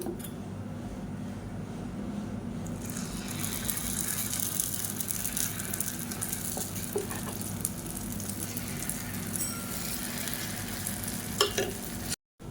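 Sweet moong dal paniyaram batter sizzling steadily in a hot pan, a continuous close frying crackle with light stirring scrapes throughout, ending abruptly.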